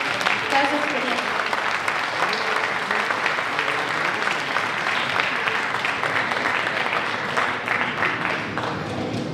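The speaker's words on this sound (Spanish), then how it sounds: "vamos a darle un fuerte aplauso por compartirnos toda su experiencia" A conference audience at a cyber security talk gives a strong round of applause after a speaker, continuous clapping throughout with voices audible beneath it.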